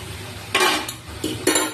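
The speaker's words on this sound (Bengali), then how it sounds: "আমি যে মটর আর আলু সিদ্ধ করে রেখেছিলাম সেটা আমি ঢেলে দিলাম।" Boiled peas and potatoes tip into a cooking pan of nearly fried spices for ghugni, giving three short clattering bursts of clinking against the pan, close and moderately loud, with quiet gaps between them.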